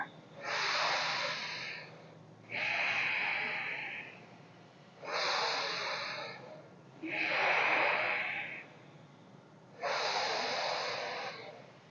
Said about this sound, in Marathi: घेतलेला श्वास 1 सेकंद थांबा, मग विरुद्ध बाजूने सोडून द्या.